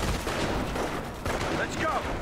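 Gunfire in the World War II strategy game Company of Heroes, with rapid bursts of rifle and machine-gun shots crackling continuously at moderate distance, mixed with game voices calling out.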